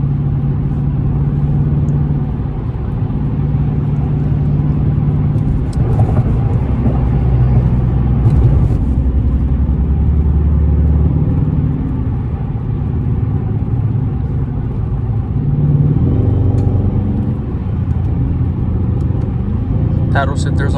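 Interior of a Dodge Charger R/T with its 5.7L engine cruising at night, a steady low rumble and road drone that swells slightly now and then, close and continuous, with a few faint clicks and ticks.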